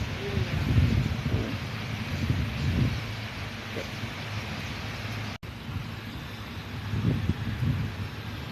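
Steady wind rushes and buffets the microphone at Shek O Beach throughout, with faint voices murmuring low beneath it.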